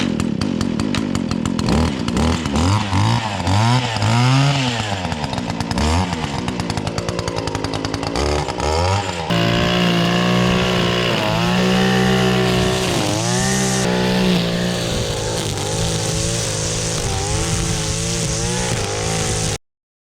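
A small pull-start engine on Husqvarna landscaping equipment, a single-cylinder four-stroke, revs loudly and close up, rising and falling in pitch before settling into a steady roaring run, then stopping abruptly.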